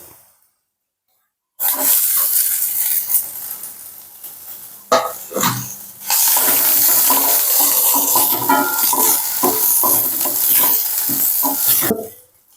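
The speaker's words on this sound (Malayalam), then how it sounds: "നമുക്കിനി വെളുത്തുള്ളിയും പച്ചമുളകും കൂടി ഇട്ട് കൊടുക്കാം" Garlic and green chilli hit a hot pan with a sudden loud sizzle that continues steadily, broken by stirring scrapes and a brief lull before the frying swells again near the pan, no voices.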